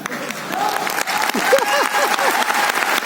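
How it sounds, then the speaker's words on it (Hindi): Loud audience applause filling a hall at a business motivational event, a dense steady wash of clapping for about three seconds, with voices and cheers mixed into the crowd noise. "उनके लिए भी एक जोरदार तालियां।"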